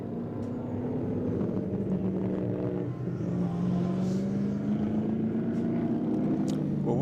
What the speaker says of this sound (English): Wood's still out there as checker flag just coming out